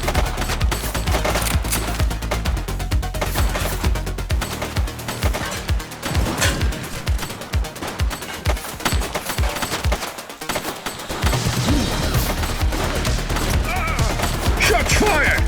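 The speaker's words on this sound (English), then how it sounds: "Shots fired!" Sustained gunfire in The Precinct, a loud, dense mix of rapid automatic bursts and single shots crackling almost without pause, with a brief lull near ten seconds before the firing resumes.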